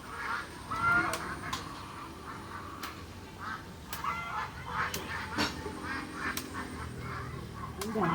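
Ducks quack repeatedly in short nasal bursts, some honking notes mixed in, over a steady background murmur with faint voices.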